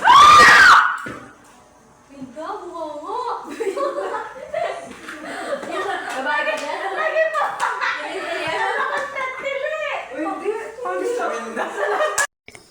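A group of people indoors during an evening movie marathon let out a sharp, loud scream when something falls under the sink, followed by ongoing laughter, chatter and a few claps.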